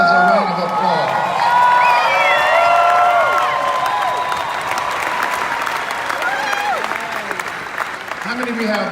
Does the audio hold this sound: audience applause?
yes